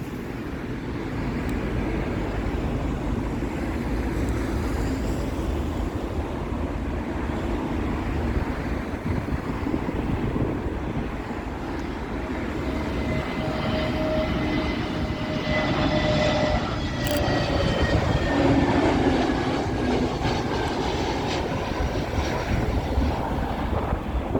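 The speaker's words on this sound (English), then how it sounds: "British Airways A320neo, and this is arriving in from Aberdeen." A British Airways A320neo airliner arrives at Heathrow, its engine roar a broad, steady rumble with wind buffeting the microphone, growing slightly louder as it passes overhead.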